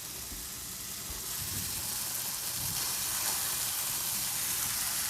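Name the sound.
Salisbury steak patties searing in a pan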